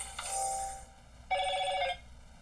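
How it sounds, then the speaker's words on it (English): A phone rings with an incoming call in two electronic bursts with a gap between, clear and fairly close, with no talking over it. "I've got a phone call coming in that I'm not going to be able to answer."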